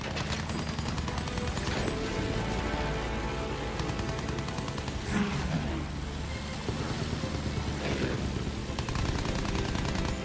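Rapid gunfire from World War I weapons during a Battlefield 1 match, with bursts of machine-gun fire and scattered shots over a dense, loud battle din. Someone talks throughout.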